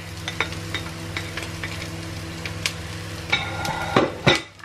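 Onions and garlic hitting a hot wok for home-style fried rice, a continuous close sizzle with light crackles and a few metallic clinks and scrapes of a utensil toward the end.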